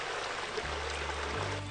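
A small waterfall at Jackson Forest Park gives a steady, even rush of water that fills the whole moment with constant hissing flow and no voices.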